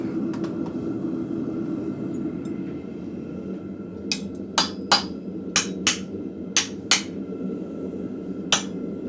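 Sharp metallic strikes ring out in a loose series of about eight blows over a steady low hum, a hammer driving a blacksmith's hot cut through scrap metal.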